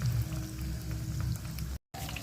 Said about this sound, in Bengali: তেল গরম হয়ে গেছে, তেলের মধ্যে ছেড়ে দেব।